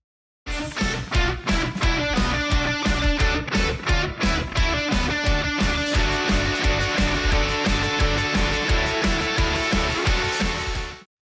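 Full mix of a fast-paced electronic track with a short, snappy kick drum thumping steadily on every beat under dense layered synths, loud and continuous from start to finish.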